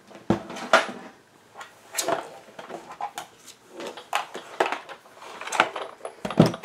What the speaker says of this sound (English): I'm going to bring in the Big Shot